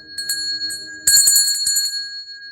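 A small bell rings in a few quick dings, then a brighter, louder burst of rapid strikes, clear and close with a lingering metallic ring.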